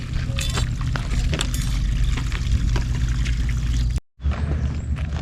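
Water gushes from a freshly connected pipe at a house construction site, a loud, continuous splashing pour that breaks off briefly near the end before resuming.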